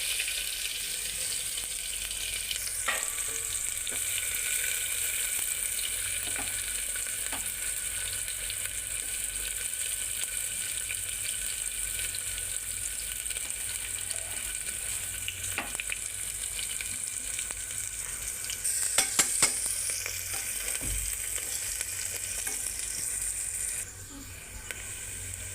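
Garlic-ginger paste and finely chopped onion fry in hot oil with a steady, close, bright hiss. A few soft clicks and stirs break it, and one brief louder crackle comes near the end.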